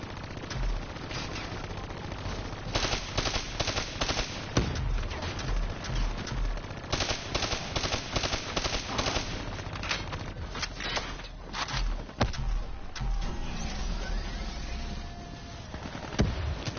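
Heavy video-game gunfire while shooting down VAPs, sustained rapid bursts and single shots in a loud battle that keeps going for most of the stretch, with a few brief gaps and no talking.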